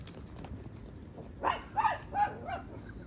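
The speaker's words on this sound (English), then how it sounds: "Barking at the squirrels." Dogs bark at squirrels outdoors, about four fairly close barks in a rough cluster over a low background hum.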